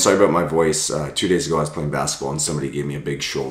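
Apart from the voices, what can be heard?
None of the usual background noises is heard.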